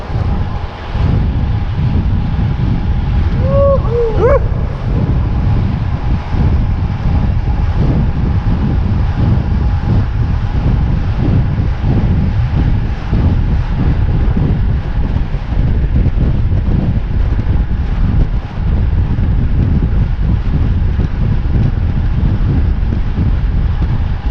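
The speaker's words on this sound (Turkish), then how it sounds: "Çok rüzgar var karşıdan esen." Strong headwind roars steadily into the microphone for the whole stretch, a dense buffeting rush with a faint high squeal briefly early on.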